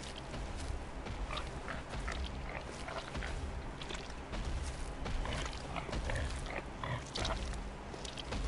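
Pig grunting in Bloodborne, repeated rough snorts and grunts over a busy, noisy game soundscape, moderately close and fairly faint, without speech.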